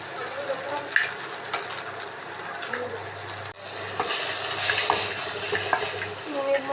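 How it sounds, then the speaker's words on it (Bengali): Garlic frying in a pan for garlic sauce pasta: a soft crackling sizzle with spoon scrapes and stirring clatter, growing a little louder midway. "তো এটা ভাজা ভাজা হচ্ছে"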